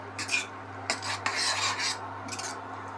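A spoon stirs bitter gourd kuzhambu in a cooking pot, giving several short scraping, clinking strokes over a low steady hum.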